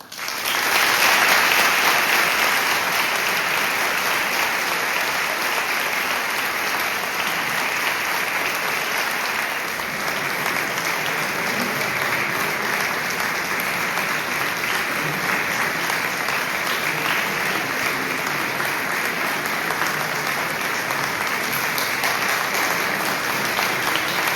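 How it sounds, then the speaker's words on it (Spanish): Audience in a church hall applauding a choir and chamber group, a long sustained burst of many hands clapping that stays loud and steady throughout without voices. "Con todos ustedes, valen eles e, por lo tanto, un gran aplauso."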